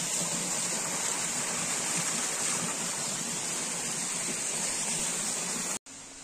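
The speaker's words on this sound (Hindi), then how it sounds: "और ये मतलब पानी झरना वो देखो वहां से भी गिर रहा है" A waterfall in the Tamiya hills gives a steady, broad rushing roar of falling water, continuous and fairly loud, cutting off abruptly near the end.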